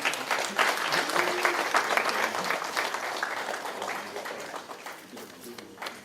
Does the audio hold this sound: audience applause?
yes